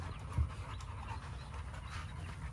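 A dog pants softly and steadily nearby, with a brief low thump early on.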